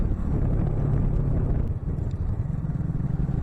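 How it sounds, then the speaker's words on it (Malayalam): Cold mountain wind buffets the microphone on a road above the Alaknanda river near Rudraprayag, a steady loud low rumble that briefly dips before surging again. "നല്ല തണുത്ത കാറ്റ് വീശുന്നുണ്ട്."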